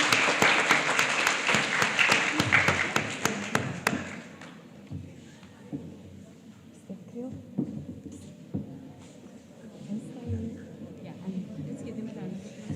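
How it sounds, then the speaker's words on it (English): Applause from the audience at a Grade 7 school prize giving ceremony rings out loudly for a few seconds, then breaks off into a quieter hall with scattered knocks and murmured talk. "Let's give them a round of applause for the 7E"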